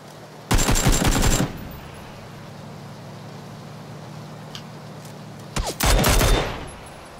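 Suppressed gunfire in the PUBG battle royale shooter, two loud rapid bursts about five seconds apart, each lasting under a second, over a steady background of rain.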